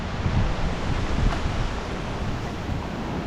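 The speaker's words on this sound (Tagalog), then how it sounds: "Ito yung hangin." A strong typhoon wind roars without a break, loud and close, buffeting the microphone in a dense, rumbling rush.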